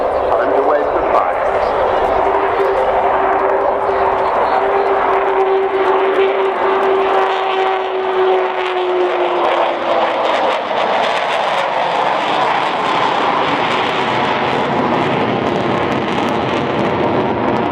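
An Avro Vulcan jet bomber making its final flypast roars loudly overhead with a long, falling whine, followed by sustained jet rumble and wind buffeting, with a voice heard over it.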